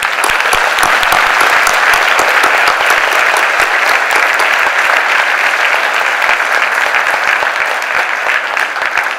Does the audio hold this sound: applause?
yes